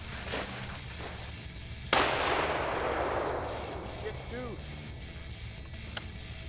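A rifle shot cracks out once while hunting mule deer bucks, loud and sharp, then its boom rolls away and fades over several seconds, with outdoor background hum around it.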